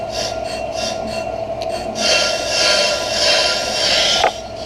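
A brake lathe cuts the end of a hub-type brake rotor with a steady, grinding scrape and a constant pitched whine. The cut grows rougher and louder partway through, with a brief sharper scrape near the end.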